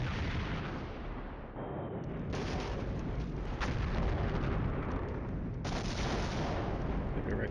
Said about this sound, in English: Good hits on that artillery.